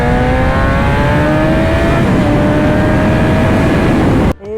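A BMW S1000RR sport motorcycle revs hard on a race track, its loud, close engine note climbing steadily in pitch for about four seconds before cutting off abruptly.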